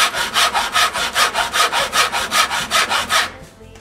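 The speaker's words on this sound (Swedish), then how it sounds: "Sen så är det bara helt enkelt såga lite försiktigt." A hand saw cuts squarely across a wooden board with about fourteen quick, even strokes in a steady back-and-forth rhythm, loud and close, then stops abruptly near the end.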